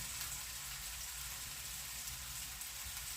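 Eggplant frying in a pan with garlic and chopped herbs, giving a steady, close, even sizzle that runs unbroken with no talking.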